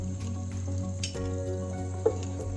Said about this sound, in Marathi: आपण ह्या डाळीला थोडा गोल्डन कलर येईपर्यंत परतून घेऊ